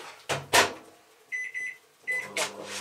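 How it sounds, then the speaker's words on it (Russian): A microwave oven reheats leftover mashed potatoes in a home kitchen, with door and panel clunks followed by a run of short electronic beeps, then another beep and more handling noises. "Сейчас я разогрею в микроволновке."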